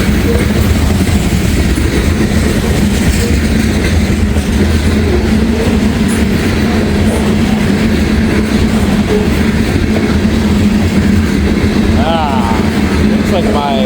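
A grain train rolls past close by in a loud, continuous rumble with clattering wheels on the rails, while people talk over the noise.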